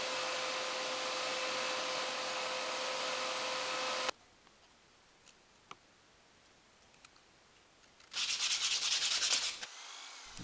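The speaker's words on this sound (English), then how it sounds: "Now I'm just sanding and shaping it." Hand sanding and shaping a wooden fork produces a steady, close rasping rub for several seconds, then a quiet pause with small ticks, then a second louder burst of scratchy sanding.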